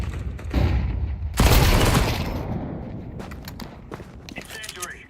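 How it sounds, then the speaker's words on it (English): A flashbang grenade goes off in a video game shooter: a sudden loud broadband blast that rings out and slowly fades, followed by scattered smaller clicks and impacts. "Flashbang."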